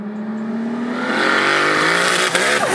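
A 1000 bhp Toyota Supra accelerating hard from a rolling launch, its engine note climbing steadily and loudly in pitch as it boosts, with a brief rasp near the end.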